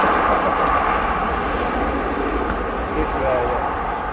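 An arriving airliner at Manchester Airport rumbles as a broad, steady, moderately distant engine roar with a faint whine, while people talk over it.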